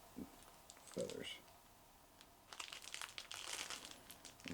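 Golden pheasant skin feathers handled at a fly-tying bench, giving soft plastic-bag-like crinkling and rustling bursts, sparse at first and denser in the second half, with a brief voice early on.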